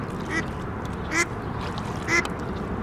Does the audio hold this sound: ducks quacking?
yes